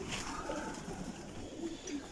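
Bereznegovatoye pigeons cooing softly and steadily, a low murmuring coo from a flock close by over a constant background hum, with no talk.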